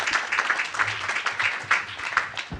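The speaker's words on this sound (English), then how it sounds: "a round of applause for the panelists" An audience gives a short round of applause for panelists at a 2018 accountability breakfast event, with scattered clapping bursts and faint voices underneath.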